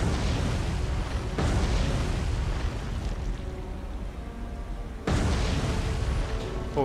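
Naval shells bursting on a battleship during a US Navy bombardment of Port Moresby in the War on the Sea game: two heavy booming impacts, a few seconds apart, over a constant loud roaring rumble of battle.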